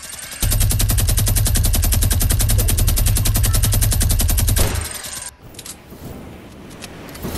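Rapid automatic gunfire in the Fortnite video game, a dense, loud stream of shots lasting about four seconds as a player fires at a base, then cutting off into quieter game ambience.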